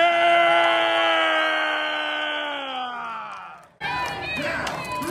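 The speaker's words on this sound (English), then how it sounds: "When I call your name for your birthday, I want you to cheer so we know where it's sitting." A dinner-show crowd at the Pirate's Dinner Adventure in Downtown Disney. A long held voice slides downward, then the crowd abruptly bursts into loud cheering and shouting for the birthdays near the end.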